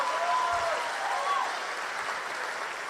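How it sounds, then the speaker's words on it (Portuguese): Church congregation applauding during an evening service, a sustained wash of clapping from a crowd, fairly loud at first and easing slightly, with a voice faintly audible beneath it. "Dá salva de palmas, pastor Carlos Marcelo"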